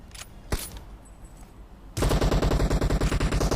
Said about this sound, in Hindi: मेरे पीछे से कोई दूसरी गन चिपका देता है, ऑटो पे चलने वाली गन